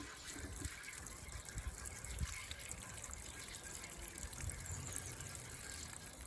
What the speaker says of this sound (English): So you've got that lovely kind of running water sound, which is so relaxing